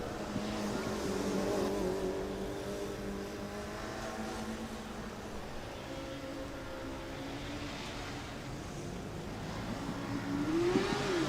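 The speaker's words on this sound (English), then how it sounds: "Still hearing a little trouble with finding the gears from the driver." A Formula Student race car on an endurance run drones steadily at a distance, its engine note wavering and hunting unevenly while the driver struggles to find gears, with a sharper rev rising near the end.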